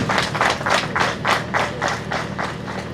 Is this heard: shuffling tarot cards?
no